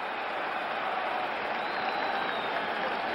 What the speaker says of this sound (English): And the crowd coming to life here at the stadium.